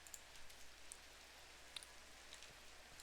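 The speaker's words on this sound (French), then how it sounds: "Je m'en allais couper le son de la pluie" Rain falls in the Minecraft video game, a soft continuous patter with scattered sharper drop ticks, steady and fairly quiet throughout.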